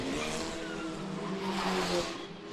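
Formula 4 single-seater race car engine idling and revving after running up the escape road during FIA F4 World Cup practice at the Macau Grand Prix street circuit, a loud continuous engine drone with harmonic whine throughout, no voices.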